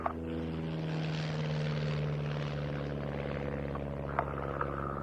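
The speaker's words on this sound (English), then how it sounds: "An aircraft designed by de Havilland Canada at Downsview, Toronto, with the aim of picking up really where the tiger moth had left off" A de Havilland Canada Chipmunk trainer aircraft flies at an airfield flying evening, its propeller engine giving a steady, droning hum with a faint pitch shift as it passes, plus a few small clicks.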